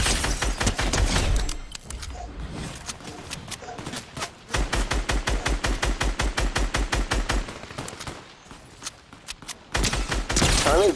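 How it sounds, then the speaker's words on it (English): Video game weapon gunfire crackles in rapid bursts of sharp, loud shots, pausing briefly between volleys before another long string of fire. "I might fire at these guys a little bit."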